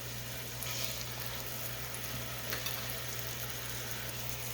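Hamburger steak patties, oval-shaped and made for smothered hamburger steak, sizzle steadily in a pan on a stovetop, a constant close frying hiss with a low hum beneath it.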